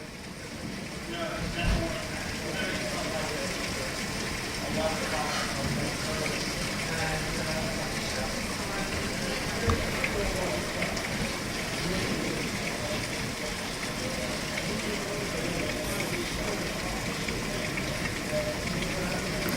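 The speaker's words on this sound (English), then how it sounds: "just a lot of lightning. And extremely heavy rains." Extremely heavy rain pours down during a severe thunderstorm at Stone Mountain, Georgia, a loud continuous roar of water hitting surfaces with splashing and gushing, steady from start to finish.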